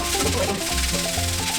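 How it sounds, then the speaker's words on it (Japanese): Steady, continuous scrubbing of a heavily greasy kitchen range hood with neutral detergent, a close rubbing and swishing sound that carries on without a break. "今中性洗剤で磨いてます"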